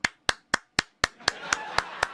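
Nine evenly spaced single hand claps close to the microphone during a birthday livestream, crisp and isolated at first, then the last few blur into a soft background wash.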